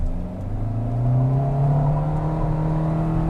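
A 2022 Kia Rio LX engine revs in sport mode, a steady, close drone that rises and holds at higher RPM with no talking.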